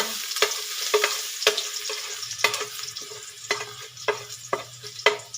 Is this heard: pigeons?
no